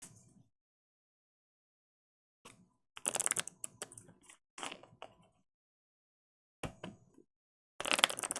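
Playing cards from a Harry Potter trading card game are shuffled in short separate bursts of crisp riffling and flicking, with quiet pauses between them and no talking.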